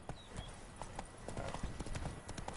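Hooves of Roach, Geralt's horse in The Witcher 3: Wild Hunt, clip-clop in a steady quick rhythm over quiet game ambience, soft and near.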